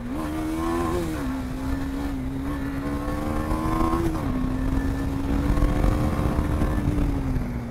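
Several motorcycles ride together on an Indian road trip near the Pakistan border, a steady, loud engine drone with a smooth pitch rise and a shift near the middle, continuous throughout with no talk.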